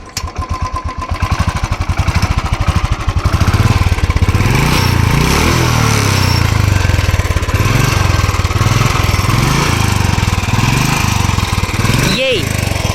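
A 2013 Royal Enfield Bullet 350 single-cylinder engine runs close up with a loud, steady, rapid thumping beat and a slightly rough mechanical clatter, continuing throughout with a brief whine near the end.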